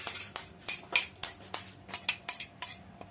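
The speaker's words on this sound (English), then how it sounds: "And then we'll just simply stir the filling." A spoon clinks against a cooking pot while stirring cabbage roll filling with carrots, about ten sharp metallic taps in a quick, fairly even rhythm, close and distinct.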